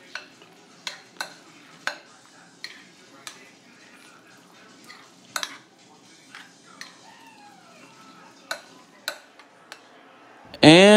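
Grated cheddar stirred into a warm green bean and mushroom soup mixture, giving a run of soft spoon scrapes and clinks against the bowl at a steady rhythm, close by, ending in a louder clatter.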